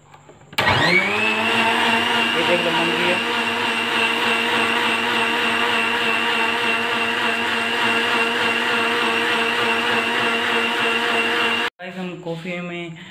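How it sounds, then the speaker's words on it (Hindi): A loud blender whirs steadily for several seconds mixing cold coffee with cold milk and sugar, starting abruptly and cutting off near the end, followed by a brief voice. "मैं बना रहा हूँ मिक्सी में"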